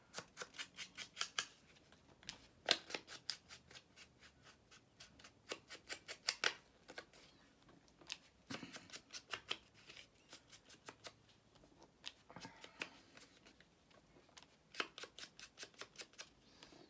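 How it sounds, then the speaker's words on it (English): Scissors snip a thumb hole into a paper junk-mail envelope, a close, crisp series of rapid cutting clicks in short bursts with brief pauses between them, and no talking. "I remembered to cut out my little thumb hole"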